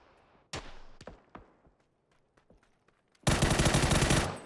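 Gunfire in the battle royale game PUBG during a pro scrim: a few sharp single shots with echoing tails, then a sudden loud sustained burst of rapid automatic fire at the end.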